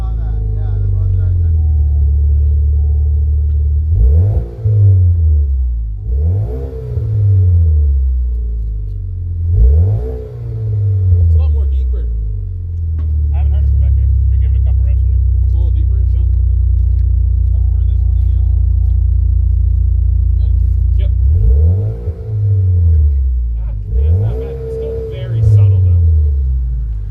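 Cadillac ATS 2.0T with a catback exhaust revving repeatedly at idle, several rising and falling bursts over a deep steady rumble, close and loud, with people talking over it.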